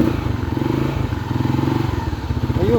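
Motorcycle engine after a battery replacement, cranking and catching into a steady close-up idle with rhythmic mechanical clatter throughout, loud and alone with no talking.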